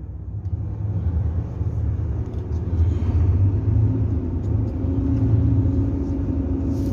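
An old-model car's engine rumbles steadily as it drives away after a clutch-and-gearshift start, a deep, loud low drone close to the listener that holds even throughout, with no voices.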